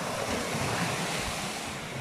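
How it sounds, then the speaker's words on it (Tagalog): Ocean waves break against rocks in a steady, close rush of surf, with wind buffeting the microphone throughout. "Kape-kape tapos hampas ng alon."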